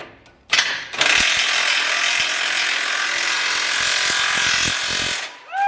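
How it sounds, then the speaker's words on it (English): A ratchet wrench clicks rapidly and loudly up close while tightening parts on an off-road vehicle build, a continuous rasping chatter lasting several seconds with a few louder clicks. "Hey, I gotta tighten this, Daniel."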